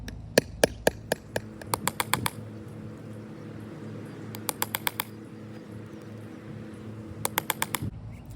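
A small hammer taps wood while building a three-legged camp stool, sharp quick strikes falling in several bursts of rapid blows separated by pauses, close and clear over a low steady background hum.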